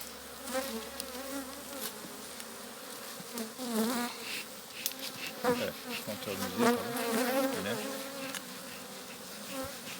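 Honeybees swarm around an opened hive during November hive care, a dense, continuous buzz close by that swells and fades as individual bees pass near.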